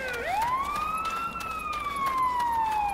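An electronic siren from The Day Before zombie-survival game trailer blares loud and close, one long rising wail that holds steady and then slowly falls, with no voices over it.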